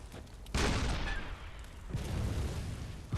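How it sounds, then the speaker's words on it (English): A cannon in the video game Bloodborne fires twice, each shot a loud, sharp boom with a lingering rumbling tail, spaced about a second and a half apart. "Can we use this cannon?"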